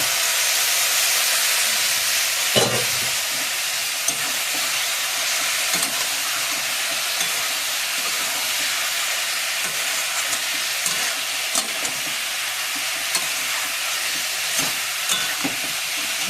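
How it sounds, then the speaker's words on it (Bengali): Meat sizzles as it is sautéed in a pan, with a steady hiss of frying broken by occasional clinks and scrapes of stirring, fairly close and with no talk. "মাংসটা কষিয়ে দেবো।"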